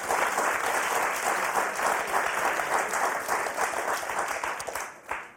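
Studio audience at a Motus game show breaks into sustained, dense applause for the four contestants, loud and steady before tapering off at the end.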